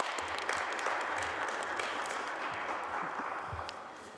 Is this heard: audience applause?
yes